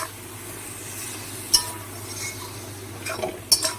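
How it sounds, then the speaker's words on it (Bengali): Spice paste for a Malabar spinach and prawn curry is stir-fried in a pan with a soft, low sizzle. A spatula clinks sharply against the metal twice, and there is no talk. "এবার মশলাটাকে আমি দু থেকে তিন মিনিট একটু কষিয়ে নেব"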